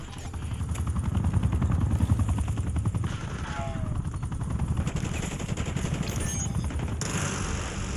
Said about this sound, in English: Deploy watchdog helo to my grid.